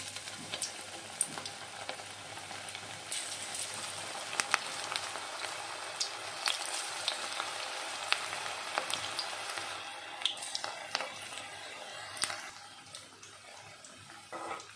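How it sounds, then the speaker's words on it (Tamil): Cabbage pakoda batter deep-frying in hot oil, a steady close crackling sizzle with sharp pops and spits throughout, easing slightly toward the end. "நம்ம மாவை அதில் எண்ணெயில் போட்டு ஃப்ரை பண்ணி எடுத்துக்கலாம்"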